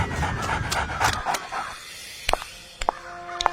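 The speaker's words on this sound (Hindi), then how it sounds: "तभी अचानक एक आवारा कुत्ता दौड़ता हुआ आया और सीधा आनंद की पैंट में दांत गड़ा दिए।" A stray dog in a Hindi cartoon story pants rapidly and rhythmically up close, then gives a few short, sharp yelps and barks spaced apart.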